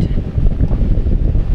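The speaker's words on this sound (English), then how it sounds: "it's like blowing at 25 miles per" Strong wind roaring steadily over a lakeside RV park, a loud continuous low buffeting rush with no voices.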